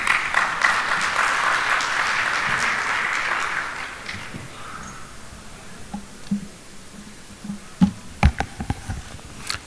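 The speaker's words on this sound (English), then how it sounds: "Applause, please." Audience applause at a professional accountants' gathering in Dubai as a treasurer is called to the stage: a loud, dense burst of clapping for about four seconds that fades out, followed by a few scattered, sharp individual claps.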